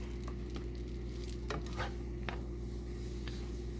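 Shrimp scampi being stirred in its sauce in a pan, with a faint low simmer and a few sharp, sparse spoon taps and scrapes against the pan, no speech.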